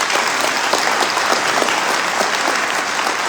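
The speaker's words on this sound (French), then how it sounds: "j'aimerais vraiment que vous leur fassiez un tonnerre d'applaudissements" A hall crowd at a 2025 municipal New Year's address gives the municipal team loud, sustained applause, a thick, even roar of many hands clapping close and continuous throughout.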